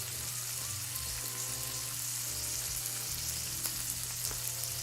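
Onions and shiitake mushrooms sizzle steadily on a grill at a home Japanese gyukaku-style barbecue, a continuous close frying hiss with faint clinks, no voices.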